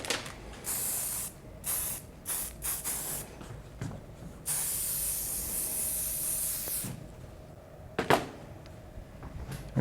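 Hairspray hisses in a series of short and longer aerosol bursts aimed at styled hair, with pauses between sprays and a few faint handling clicks.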